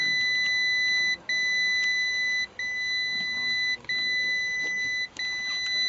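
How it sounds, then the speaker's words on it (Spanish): Continuous high electronic beeping from a solar photovoltaic battery system missing its battery, a long tone broken by four brief gaps at steady intervals, loud and near with no talk. "Creo que está pitando porque no le tengo puesto absolutamente nada."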